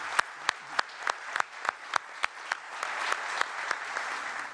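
Sparse, distinct hand claps ring out at first, then build into fuller applause from a crowd cheering the president-elect in Uruguay, fairly quiet and moderately distant.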